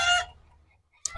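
Hens on a local chicken farm give a short, bright cluck, then a quiet pause, then a second sharper call begins. The sounds are brief and fairly close.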